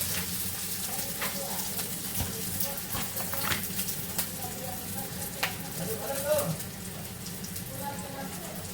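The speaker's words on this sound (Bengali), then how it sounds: "পেঁয়াজটা ভেজে নিচ্ছি মশলা দিয়ে দেবো" Onions frying with spices in a home kitchen pan for a vegetable breakfast dish, giving a steady, close, dense sizzle with occasional stirring scrapes throughout.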